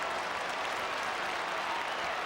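Football crowd at an AFL match between the Kangaroos and Port Adelaide roaring and applauding for the home team, a steady dense wash of cheering with no clear breaks.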